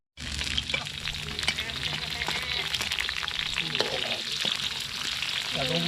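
Food sizzling steadily in a pan at a campsite on the shore of Lake Laut Tawar in Central Aceh, loud and continuous and close up, with occasional clinks of stirring and faint voices in the background.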